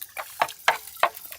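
Beaten eggs with rock salt being stirred for a bread omelette, a spoon or whisk making four or five quick, separate scraping clicks against the bowl, close and fairly quiet.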